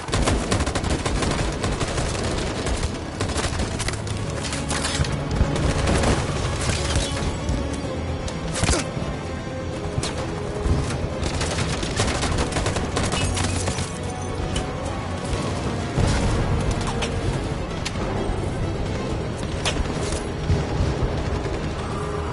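Sustained heavy gunfire from rifles and automatic weapons in the video game Detroit: Become Human, a dense roar of overlapping shots and bursts that continues loudly for the whole stretch with no voices.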